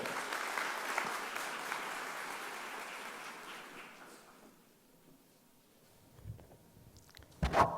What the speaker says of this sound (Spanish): recibamos con un aplauso al doctor Marco Aurelio Rodríguez García